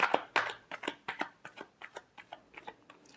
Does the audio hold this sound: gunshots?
no